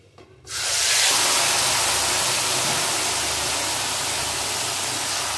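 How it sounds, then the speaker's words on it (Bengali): Marinated mutton drops into hot oil in a home kitchen, bursting into a loud, close, broadband sizzle that holds steady for several seconds after a brief quiet start, with no voices. "এখন দিয়ে দেবো ম্যারিনেট করা মাংস।"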